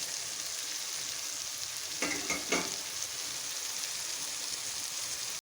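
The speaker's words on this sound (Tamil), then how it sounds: "பொடி போட்டு கொஞ்சம் வதக்கி விட்டுக்கலாம்" Spice powder sautéing in a pan with cooked-down tomatoes for a lentil ball curry, producing a soft, steady sizzle with a couple of quick scraping stirs in the middle.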